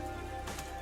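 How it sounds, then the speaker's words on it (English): Steady rainfall in the detective game Rain Code, a soft continuous hiss of drops on surfaces with no talking, even and unbroken throughout. "given how it's always raining here?"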